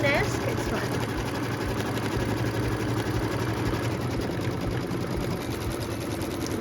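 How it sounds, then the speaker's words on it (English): A quilting machine stitches straight lines on a quilt, a steady rapid mechanical whirring hum running continuously at moderate volume, with faint background sounds. "We'll just watch this quilting because it's straight lines and it's almost done actually."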